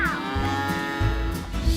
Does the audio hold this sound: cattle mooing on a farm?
yes